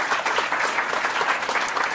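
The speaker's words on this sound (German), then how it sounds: "dann würde ich doch um einen Applaus bitten für unsere beiden Gäste" Conference attendees at a congress panel on green transformation applaud their two guests, a steady, close patter of many hands clapping without pause and no voices over it.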